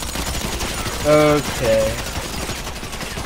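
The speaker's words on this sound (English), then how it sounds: "there's two people shooting at my body now" Rapid gunfire in GTA V, a steady stream of crackling shots held at a fairly even level from start to finish, with a man's brief spoken word over it.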